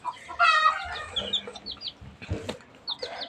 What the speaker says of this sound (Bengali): আপনারা দেখতে পাচ্ছেন আমাদের সোনালী মুরগির বাচ্চাকে